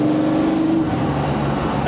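A 1957 Chevrolet 150 post sedan with a heavily built engine pulls steadily in third gear on a hot Florida road, a loud continuous engine drone with road noise and no break.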